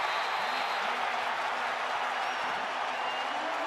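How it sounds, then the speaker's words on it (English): A stadium crowd roars and cheers continuously after a touchdown in a 2019 NFL game, a dense, loud wall of cheering and applause sustained throughout with no lull. "this crowd's already going crazy"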